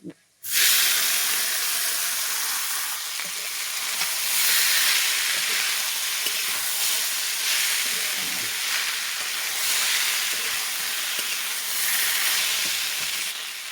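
Beetroot dropped into hot oil with browned garlic in a pan: a loud, close, steady hissing sizzle that starts suddenly and holds evenly throughout, with no voice over it.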